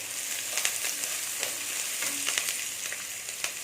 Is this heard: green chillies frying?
yes